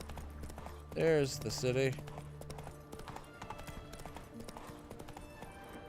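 Roach, the horse in The Witcher 3, clip-clops along with a steady hoof rhythm at moderate volume beneath a man's speech, while game music and ambience play.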